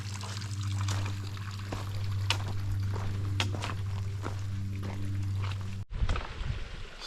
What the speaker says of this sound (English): It's a little mini water slide over there.